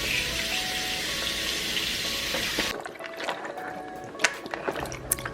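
Water from a running tap rinsing coconut pieces, a steady close splashing stream that cuts off abruptly, followed by faint sloshing and small clatters.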